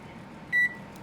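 Kitchen oven timer being set for baking a breakfast casserole, a single short, clear electronic beep rising over a quiet room hum.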